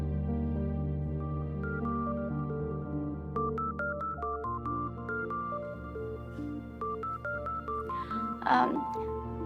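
In a classroom, a mobile phone plays a repeating electronic ringtone melody, steady and moderately loud, with a brief voice-like burst near the end.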